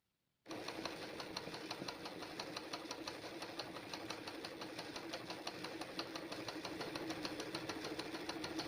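A machine-embroidery sewing machine starts after a moment of silence and runs continuously, giving a steady, fast, rhythmic needle-clatter hum at close range.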